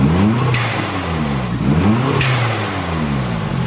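A car engine with a turbo and temporary intercooler piping free-revs up and down twice, each rise ending in a sharp blow-off valve hiss, loud and close with no talking.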